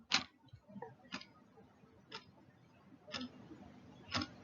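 A clock held away from the ear ticks five times at an even one-per-second pace, soft and a little distant over a low background hum.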